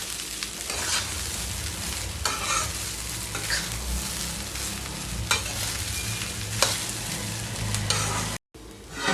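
Sabudana khichadi cooks over a slow flame in a pan, a steady close sizzle broken by repeated scraping stirs of a spatula, ending with a brief cut to silence.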